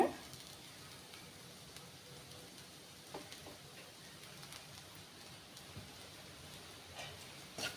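Spicy pepper cauliflower with curry leaves frying in a pan, heard as a steady, faint hiss and crackle with a few light pops throughout and no talk.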